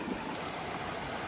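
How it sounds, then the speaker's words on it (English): Water of a small mountain river rushes on steadily and evenly, a close, broadband hiss and burble with no voices. "beautiful little river area"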